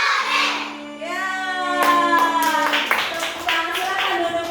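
A group claps hands together during a school coaching session, with a run of sharp, fairly close claps following voices calling out and singing.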